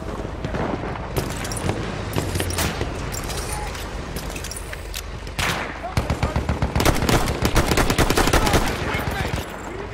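Battlefield 1 multiplayer Conquest on the Sinai Desert map: dense, loud gunfire with rapid machine-gun bursts and scattered explosions, quickening into a rhythmic automatic stream near the end.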